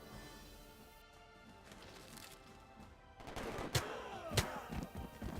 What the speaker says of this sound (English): Now that we've attacked with our riflemen